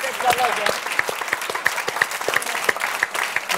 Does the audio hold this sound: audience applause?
yes